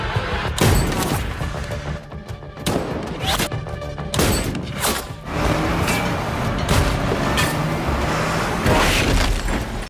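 Gunfire in a long-range sniper shootout from a film, with loud shots and booming blasts that crack through sustained, dense action noise.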